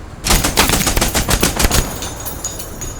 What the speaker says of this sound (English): Let's hear the heavier machine gun.